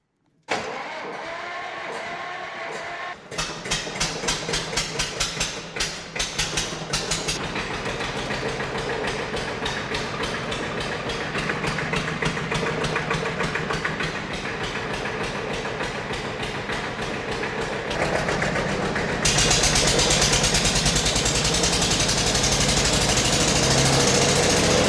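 An old Porsche Junior 108 tractor engine starts up outdoors in the snow and settles into a steady, close, rattling run while the PTO axle spins, then gets louder near the end, with no talking.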